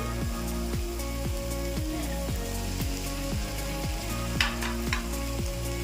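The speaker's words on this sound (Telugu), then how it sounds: "ఇప్పుడు ముందుగా వేయించుకున్న వంకాయలు ఇందులో యాడ్ చేసుకోండి" Pre-fried brinjals added to a pan of masala for Guntur-style stuffed eggplant curry, with a dense, continuous oily sizzle, close up and loud, and a regular clicking rhythm running through it.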